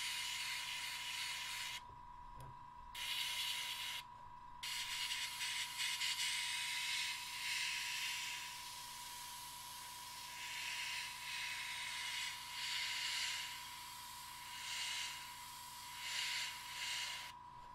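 An airbrush sprays paint onto a Mechanicum Ordinatus Sagittar model, making a soft continuous hiss that swells and fades in short gentle passes, with a few brief pauses and a low steady hum underneath.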